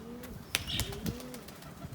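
Domestic pigeons coo softly in a loft while wings clap and flutter as the birds take off, several sharp wingbeats over a steady low murmur.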